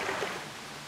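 Stream water flowing along the Hwagae valley near Ssanggyesa temple in Hadong, a brief, soft, broad rushing wash with no voices.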